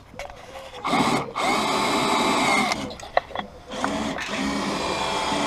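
Power drill boring out rivets while a Honda S2000 soft top is being replaced, in several loud close bursts of whining drilling with short pauses between them.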